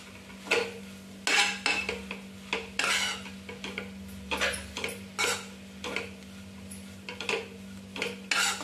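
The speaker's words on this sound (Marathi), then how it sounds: "भाजी आता व्यवस्थित हलवून घेते म्हणजे त्याला तिखट वगैरे मीठ वगैरे व्यवस्थित लागेल." Bamboo shoot vegetable is stirred in a metal pan with a utensil, a series of repeated, fairly loud scraping clinks and knocks against the pan in an irregular rhythm, heard up close with no voices.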